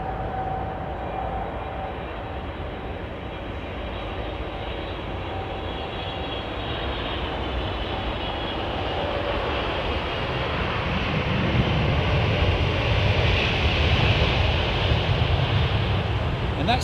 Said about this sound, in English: that 777-300 from Los Angeles, British Airways 280